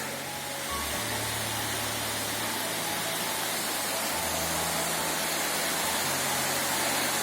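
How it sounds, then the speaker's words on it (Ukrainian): Continuous rushing of a stream in an autumn beech forest, a broad steady wash that stays even throughout, with a faint low hum underneath. "Можна тут посидіти, подивитися, послухати шум потічка."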